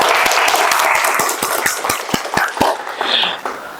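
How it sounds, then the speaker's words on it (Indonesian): Students in a classroom give applause for a group, brisk loud clapping with individual claps standing out as it fades, and murmuring voices underneath. "Tepuk tangan untuk kelompok 3."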